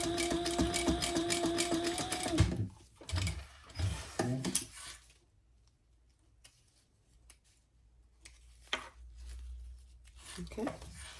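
Sewing machine top stitching 1/8 inch along a folded strap for a crossbody bag, a steady close mechanical run for about two and a half seconds followed by short bursts and faint handling noise.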